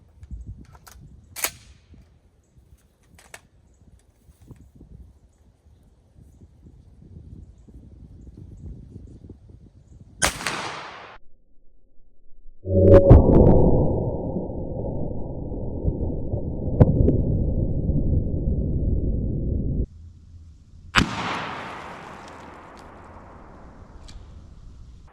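A shotgun fires rifled slugs through iron sights at a 50-yard target: three sharp, loud, close blasts spaced several seconds apart, with a stretch of steady rushing noise between the second and third shots and no talking.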